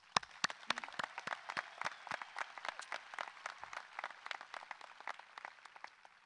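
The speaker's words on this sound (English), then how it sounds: "let's give them all a round of applause" Audience at a 2020 Bradley Central High School graduation claps steadily for about six seconds, a dense mix of many hands with sharp individual claps standing out, moderately loud and without speech over it.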